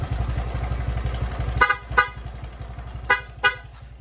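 Dual horn fitted to a motorcycle alongside a mini driving light, honking in four short loud blasts in two pairs over the steady close idle of the motorcycle engine.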